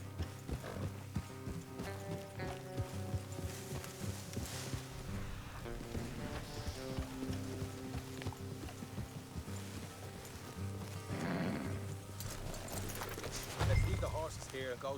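Horses clip-clopping along in Red Dead Redemption 2, a steady trot heard under game music and a short spoken exchange.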